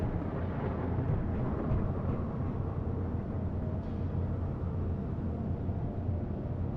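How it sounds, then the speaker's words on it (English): Thunder rumbles in the survival game Space Engineers, a steady, dense low roar that fills the whole stretch without clear peaks, loud and continuous with no talking. "I just had thunder, I think."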